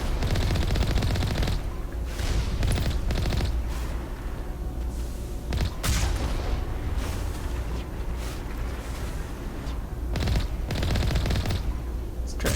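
Gunfire in the video game Mass Effect, shown as loud bursts of shots at irregular intervals separated by brief quieter gaps, with no talking.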